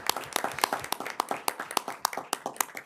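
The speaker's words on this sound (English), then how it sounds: "the applause goes to them" A small group claps at a school board of education meeting, sparse, distinct hand claps at close range with an uneven rhythm, no talking.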